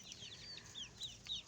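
Backyard chickens cluck softly and sporadically, several short, faint calls close by in a quiet setting.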